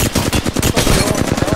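Rapid automatic gunfire from an Apex Legends firefight, a loud, continuous burst of closely spaced shots filling the whole moment, with a voice faintly mixed underneath.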